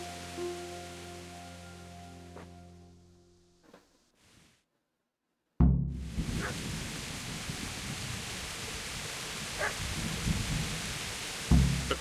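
Rain and thunder in the video game Kingdom Come Deliverance: a low rumbling tone fades to silence, then steady rain hiss bursts in loudly and continues with occasional crackles and thumps.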